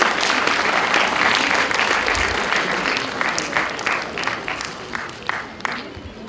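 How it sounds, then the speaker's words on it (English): An audience at a law department memorial ADR and client counselling competition breaks into a big round of applause, dense at first and then thinning into scattered individual claps as it fades. "A big round of applause, please."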